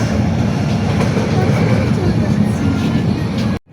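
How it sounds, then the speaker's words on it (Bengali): Passenger train bound for Cox's Bazar running along the rails, a loud steady rolling rumble with faint rhythmic clatter, cutting off abruptly near the end. "দর্শকবিন্দু ট্রেন এখন উল্টা যাচ্ছে।"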